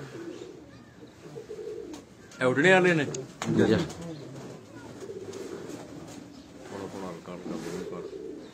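Salara pigeons coo in low, throaty bursts, while someone talks loudly nearby over the birds.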